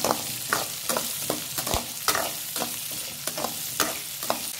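Onions and vegetables sizzle in oil in a pan while cooking manathakkali vatha kuzhambu, with a continuous frying hiss broken by repeated scraping stirs of a spoon against the pan; no talking.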